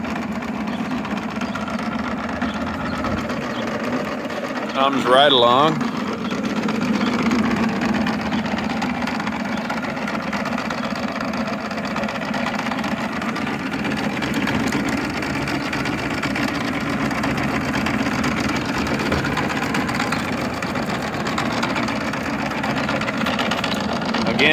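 An Office Tester tabletop seed cleaner runs with its fan and drive pulley turning, a steady mid-pitched mechanical hum and whir that carries close throughout, with a brief rattle early on and someone talking over it.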